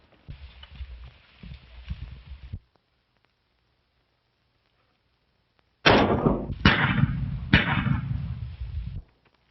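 Horse hooves clatter in an old western film, a muffled run of beats, then a gap of silence and a louder, close burst of galloping clip-clops.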